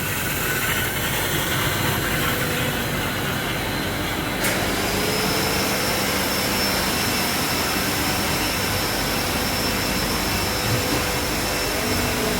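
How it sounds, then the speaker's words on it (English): An extrusion line making PETG plastic tubes from recycled material runs with a loud, constant industrial roar and an airy fan-like hiss, unbroken throughout, with a faint high whine. "This is our extrusion machine. This is how we make the tubes."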